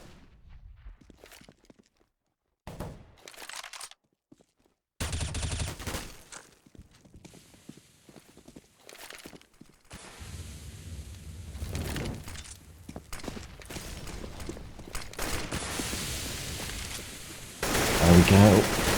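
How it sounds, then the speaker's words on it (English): Gunfire from AK rifles and a Galil in a Counter-Strike: Global Offensive match on Inferno, bursts of rapid shots and clatter that come and go across the clip, with game noise and commentary in between. "Shooting right through the smoke and right at the enemy"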